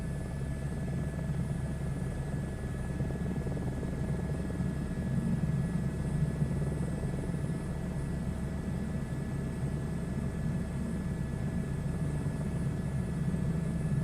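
A helicopter in a VR flight simulator game drones with a steady, even rotor and engine roar throughout, constant in loudness with no talk.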